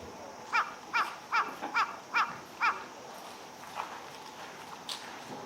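Jungle crows at the top of Kochi Castle give six loud, evenly spaced caws in a quick series, then fall quiet against faint outdoor background noise, with one more distant call near the end.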